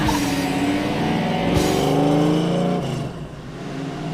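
A rebuilt Mustang on a shakedown drive pulls hard, its engine note rising and shifting loudly up close before easing off near the end.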